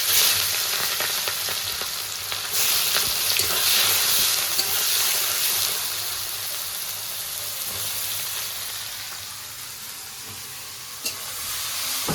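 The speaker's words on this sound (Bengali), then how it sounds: "পেঁয়াজটা একটু ভাজা হয়ে গেছে" A steady, close sizzle of onions frying in a pan with whole garam masala, cumin and bay leaves, crackling continuously with a slight rise and fall, no voices.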